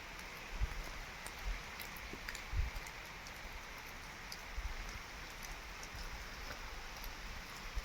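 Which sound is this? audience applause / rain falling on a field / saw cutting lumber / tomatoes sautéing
rain falling on a field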